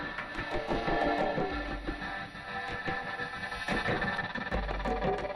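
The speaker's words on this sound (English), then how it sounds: "What you hear here is the sounding of a complex protein structure." A dense, shifting electronic texture of layered tones sonifying a vibrating complex protein structure, with scattered clicks and pulses, steady and moderately loud with no voices.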